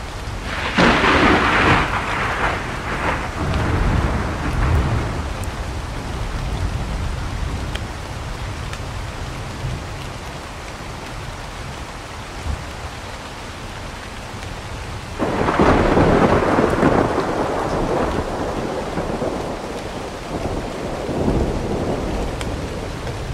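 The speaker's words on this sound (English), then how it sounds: "I can't really hear you right now because the rain is in the game." Heavy in-game rain roars steadily in a video game while two loud rumbling thunder peals roll in, one near the start and another about two-thirds through, with no voices.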